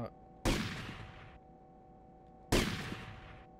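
Two loud gunshots in Grand Theft Auto Vice City during a shooting-gallery mission, each a sharp crack followed by a ringing decay about two seconds apart, over a steady low background hum.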